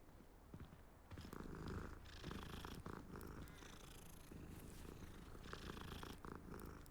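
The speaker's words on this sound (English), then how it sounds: "What's up, kitty cat?" A cat in the Hogwarts Legacy video game purrs close and continuously in a soft rhythmic rumble, with no talk over it.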